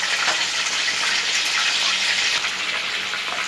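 Chicken broast pieces deep fry in hot oil, giving a loud, steady, close sizzling hiss that continues without a break and with no talking.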